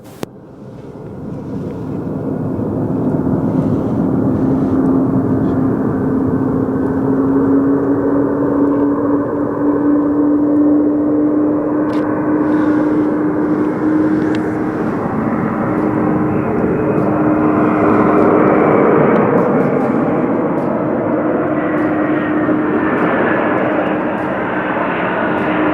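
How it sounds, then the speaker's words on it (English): Boeing 737 landing on runway 19 left at snowy New Chitose Airport, a loud steady jet engine roar with a rising whine, building and holding for the whole span, with some wind buffeting. "Boeing 737 short final 19 left, runway 19 left, clear to land"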